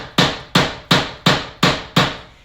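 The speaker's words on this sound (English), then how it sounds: "gently hammer that down in so that it's nice and solid" A clear thumbtack is hammered into wood in six sharp, evenly spaced strikes about a third of a second apart, each a close, crisp knock with a short decay.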